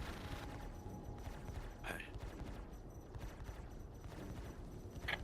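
Ship turrets firing during a Star Citizen space battle, fairly quiet bursts of rapid gunfire under ongoing radio chatter, with a couple of sharper cracks standing out.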